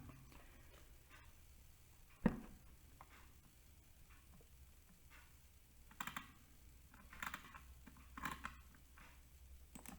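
Quiet, irregular clicks of keys on a computer keyboard as someone types, with a louder tap near the start and small bursts of keystrokes later, in a quiet room.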